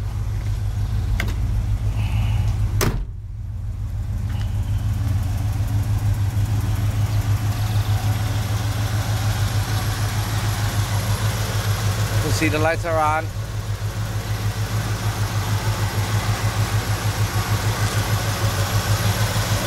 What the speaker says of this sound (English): Engine's running perfect.